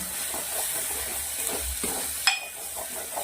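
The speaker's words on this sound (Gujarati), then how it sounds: "મસાલાને સાંતળી લેવાના છે." Spices including turmeric, coriander-cumin powder, salt and raw mango powder sauté in oil in a pan, giving a soft steady sizzle with light stirring and one sharp metallic clink partway through.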